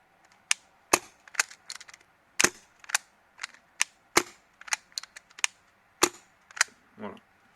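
An MK23 gas airsoft pistol fitted with a Fidels Workshop silencer fires about a dozen sharp, dry snapping shots at irregular intervals, close and fairly quiet, with faint mechanical clicks between.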